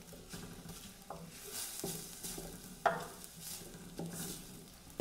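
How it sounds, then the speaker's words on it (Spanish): Chopped celery, onion and jalapeño sauté in oil, a faint continuous sizzle broken by several sharp spoon-against-pan knocks and stirring scrapes. "Vamos a llevar a sofreír muy bien lo que llevamos a picar, que es el apio, la cebolla y el chile jalapeño."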